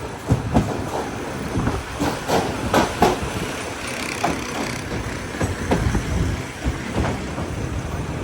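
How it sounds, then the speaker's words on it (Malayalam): An Ernakulam to Velankanni biweekly express pulling into Kayamkulam railway station at platform 1, with steady rumbling and repeated clanking wheel clicks rolling along under a continuous roar. "കായംകുളം റെയിൽവേ സ്റ്റേഷനിലേക്ക് ഇതാ നമ്മുടെ ട്രെയിൻ എത്തിക്കൊണ്ടിരിക്കുകയാണ്."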